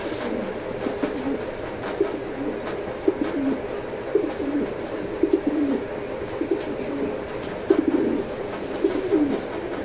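Big black racer pigeons, a pair, coo repeatedly at close range in short, rolling bursts at a fairly regular pace over a constant low background rumble.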